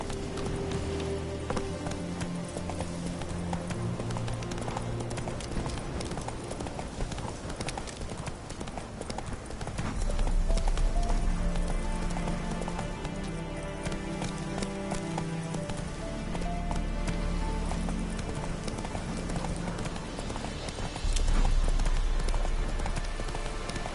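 Hooves of the horse Roach clip-clopping in a video game, a continuous brisk rhythmic trot under game music and ambience, with occasional louder swells.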